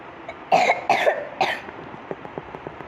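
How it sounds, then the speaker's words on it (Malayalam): A person gives three distinct, fairly close coughs in quick succession, followed by a few faint clicks and rustles in a quiet room. "അതിനൊക്കെ ചുമയെല്ലാം വന്നി"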